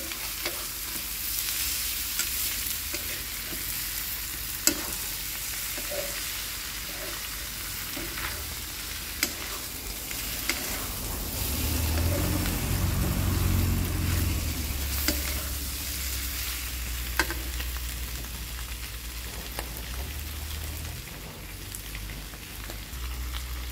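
Beef tongue fried with pineapple is stirred in a pan, a continuous oily sizzle broken by scraping strokes and clanks, with a louder bubbling surge midway through.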